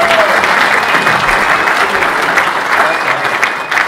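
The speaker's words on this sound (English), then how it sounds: "Let's give him a round of applause." Audience at an off-road motorcycle event applauding, loud dense clapping that holds steady for a few seconds without a break.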